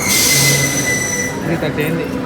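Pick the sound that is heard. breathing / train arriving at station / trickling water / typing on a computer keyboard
train arriving at station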